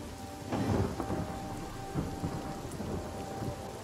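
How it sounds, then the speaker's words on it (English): Steady rain patter with deep rolling thunder rumbling close by, loud at first and then settling into a continuous downpour, in the video game Divinity: Original Sin. "Gonna rain right here on top of us,"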